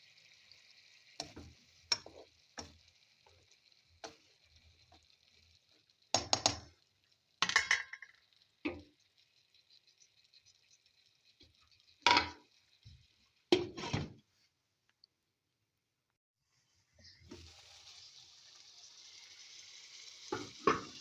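Vegetables for Ilocano pinakbet sautéing in a pan: sparse spoon clacks and scraping stirs with quiet gaps, then a bright, continuous sizzle rising near the end.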